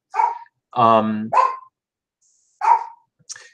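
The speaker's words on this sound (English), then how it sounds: "they're going to bark at her" A few dogs bark in short close, loud bursts indoors, a handful of sharp barks and yips separated by brief silences as a car pulls out of the driveway.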